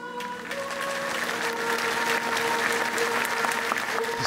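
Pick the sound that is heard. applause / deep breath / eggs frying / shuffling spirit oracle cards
applause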